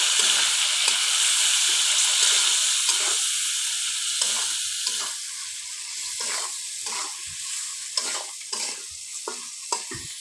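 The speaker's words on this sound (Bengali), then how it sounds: "হলুদ গুঁড়া মরিচ গুঁড়া আবার একটু নেড়ে নিয়ে" Fish fries loudly in a pan with turmeric and chili powder, a strong hissing sizzle broken by regular stirring scrapes and clacks of a spatula, close up and without talk.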